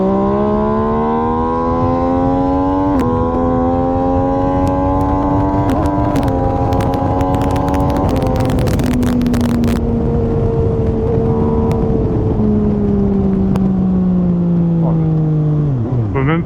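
MV Agusta Dragster 800RR motorcycle engine running steadily under a rider, a loud close tone rising and falling with shifts through the gears, with spoken commentary over it.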